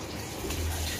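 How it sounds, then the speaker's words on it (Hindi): Water gushing steadily from a tap in a home kitchen during the midday supply, a continuous broadband rush with no talk over it. "आज तो इस टाइम पानी आ रहा है।"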